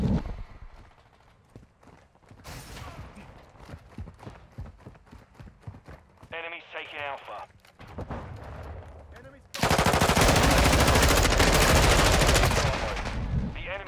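Modern Warfare 2 gunfire: scattered single shots and short bursts early on, then a long, loud, sustained automatic burst that dominates the second half, with brief game voice sounds in between.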